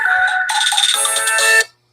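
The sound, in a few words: mobile phone ringtone of an incoming call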